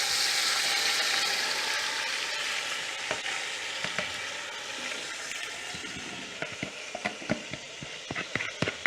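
Chicken sizzles and fries in sauce in a pan, with a steady close-up crackle joined by sharper spits and stirring clatter as the cooking goes on.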